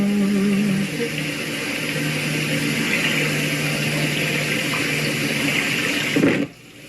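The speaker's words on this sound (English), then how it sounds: "Just the sound of water is magic." Water runs in a steady, continuous rush for several seconds, then cuts off abruptly near the end.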